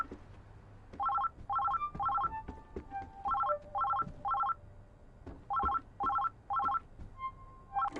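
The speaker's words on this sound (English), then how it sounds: "Phone is ringing." A phone rings in the video game Oxenfree II: Lost Signals, with repeated pairs of electronic trilling bursts in a steady rhythm, fairly close and clear.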